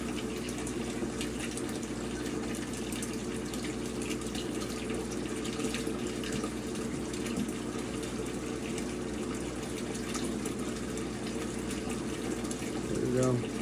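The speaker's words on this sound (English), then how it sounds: "You can see the water coming down from there." Water pours steadily into a recirculating aquarium system of twelve tanks and two sumps, a continuous close splashing gush that holds level throughout with no talking.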